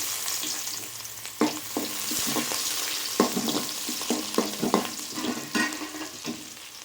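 Chopped onion hitting hot oil with cardamom and bay leaf for cabbage masala, then sizzling under repeated scraping stirs of a spoon, close and lively, with no one talking.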